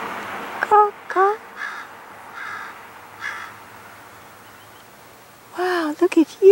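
Harsh crow-like caws from a raven, a few spaced calls and then a quick burst of several, fairly close and loud.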